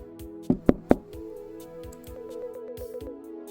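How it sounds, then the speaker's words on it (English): Three sharp knocks at a door in the video game Cryptid Crush, close and loud, followed by a soft rhythmic musical pattern of repeating tones. "You hear a knock at the door."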